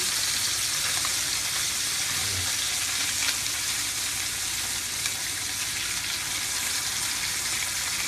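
Pike fillets frying in a pan with aromatics and herbs, a dense, loud, continuous sizzle that holds steady close by.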